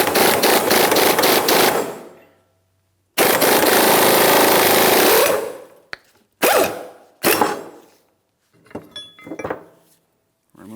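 A ball joint press forces a bushing out of a GMC Sierra 2500 HD upper control arm: harsh rattling impact-wrench bursts lasting seconds, a pause, another long burst, then shorter bursts and clanking taps.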